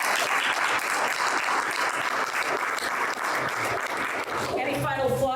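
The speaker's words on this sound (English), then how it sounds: "Round of applause for Representative Gary" An audience at a business luncheon panel on climate applauds a state representative, a dense sustained round of clapping from a crowd, loud and even throughout, with a voice briefly audible at the end.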